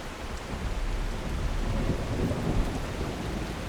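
A thunderstorm in the video game The Last Caretaker gives continuous heavy rain under low, rolling thunder that builds gently and peaks briefly, with no voices over it.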